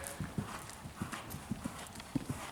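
A mare's hooves beat a steady clip-clop on arena footing during a riding lesson as she moves from trot into canter. The hoofbeats are close, distinct and evenly spaced, with no talking.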